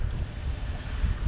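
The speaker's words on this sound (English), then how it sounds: "It's really windy." Wind gusting across a lake during a fishing outing, a steady low rumbling roar of wind buffeting the microphone that continues unbroken throughout.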